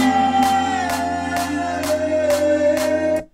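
Sharp clap sample strikes at a steady beat, about seven hits, over sustained synth chords and a pulsing bass in a dance track build-up, ending abruptly.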